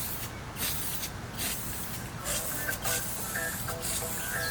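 Steady spray paint hiss fills the inside of an Airstream trailer during a renovation, close and continuous with small fluctuations and faint clicks, no clear voice.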